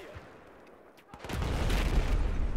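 Battlefield 4 Rush-mode gunfire and explosions swell into a loud, continuous barrage after a quieter start, with heavy low rumble under the shots.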